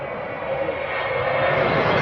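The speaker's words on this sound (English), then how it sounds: "those engines have a sound that anyone who's ever heard a Vulcan before instantly recognizes" Avro Vulcan bomber jet engines give a steady, loud roar with a broad rushing whine that swells slightly, continuous throughout without pauses.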